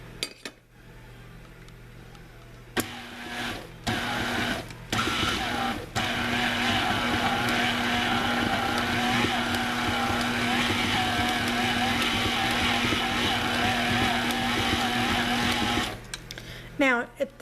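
Kitchen food processor pulsing oats for oatmeal cream pie dough: a few short whirring bursts, then a loud, sustained motor whir lasting over ten seconds, close up, before it stops.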